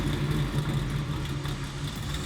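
A 1969 Chevrolet Camaro SS restomod with a 632ci engine idles with a deep, steady rumble, loud and close, its low throb continuing unchanged throughout.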